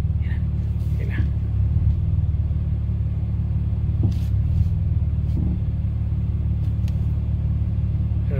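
A car engine idles with a steady, low, rhythmic rumble close by throughout, while someone talks over it and a few light clicks and knocks sound.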